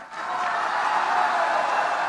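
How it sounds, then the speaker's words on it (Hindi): Rally crowd clapping and cheering for a speaker, a dense, steady wall of applause that swells in quickly and holds loud for a couple of seconds. "ये देखो, आपने ताली बजाई,"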